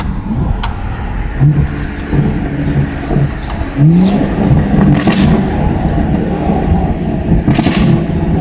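BMW M240i (F22) with a B58 engine, free-flow downpipes and an aftermarket exhaust in sport mode revs hard up close, with sharp overrun cracks and pops breaking out between the rising engine pulls.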